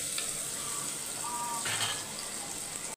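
Onions sauté in a pan for pakoda kuzhambu, a continuous close sizzle with faint bubbling and a short clatter right at the end.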